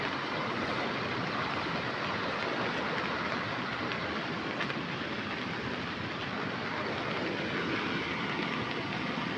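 A steady, loud rush of a small river overflowing after heavy rain, with field runoff pouring in, fills the whole stretch without a break, dense and churning, running close by.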